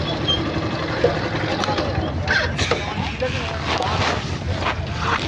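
A steady low boat engine rumble as a ferry boat approaches the Agradwip river ferry ghat, mixed with gusty wind buffeting, with voices faintly in the background.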